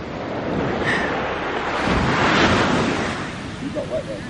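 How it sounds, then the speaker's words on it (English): Waves crash and wash continuously at Silver Sands Bay in Fife, Scotland, a loud, steady surf roar swelling in the middle, with wind buffeting the microphone and no talk over it. "as you can hear the crashing waves next to me"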